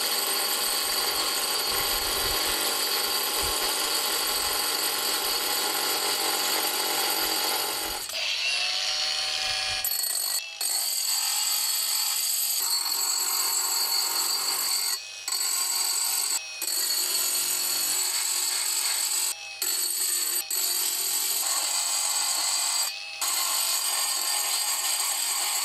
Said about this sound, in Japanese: カッターは、荒削り用に、シングルのダイヤモンドカップを使っています